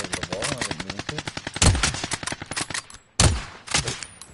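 Rapid bursts of automatic gunfire fired through walls in the video game Call of Duty Warzone, a dense string of close, loud shots with two heavier blasts standing out, no voices over them.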